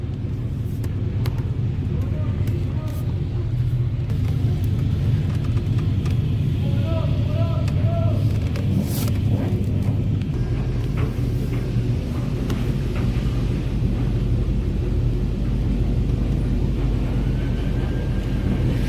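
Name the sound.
automatic touchless car wash running over a Chevy Tahoe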